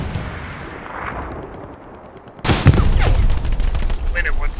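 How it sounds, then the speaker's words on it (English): A rocket launched at the player in the Hell Let Loose war game, at night in Foy: a sudden loud, close blast breaks a low rumbling backdrop, followed by sustained heavy noise with faint voices underneath. "He tried rocketing me."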